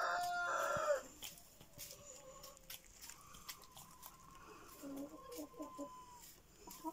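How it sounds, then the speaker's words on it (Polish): A rooster crows once, loud and near, followed by quieter clucking and scratching from Cochin hens, with a few faint voices in the background. "Kogutek zresztą już piał, ładnie pieje."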